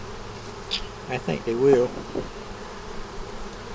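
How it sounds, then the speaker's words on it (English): Bees buzz around a feeder beneath a red umbrella, a close swarm humming steadily throughout while someone speaks briefly over it. "Pretty good bunch of bees up here in the top, but they behaving."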